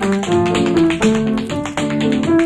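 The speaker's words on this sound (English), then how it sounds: "dancing feet of lovely little 13-year-old Patty Foy tap out the end to another Patty's Party" Tap dancing feet from a 1947 radio broadcast, a lively run of crisp taps over band music, loud and close with no talk.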